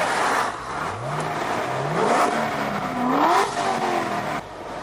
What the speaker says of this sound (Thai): เสียง V8